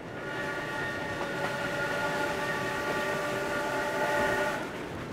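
A Great Northern Railroad steam passenger train runs through winter snow, a broad steady rumble carrying sustained whistle-like tones that fade near the end.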